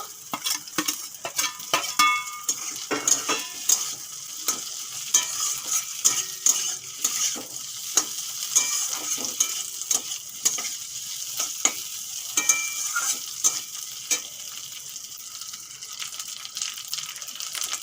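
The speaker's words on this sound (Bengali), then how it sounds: "পেঁয়াজগুলো ভালো করে ভেজে নিয়েছি এখন আলু আর চিংড়ি মাছ ভাজাগুলো দিয়ে দেব" Potatoes and fried prawns are stirred into well-fried onions in a pan, with a steady sizzle under repeated scraping strokes and clinks of a metal spatula throughout, close and fairly loud, with no voices.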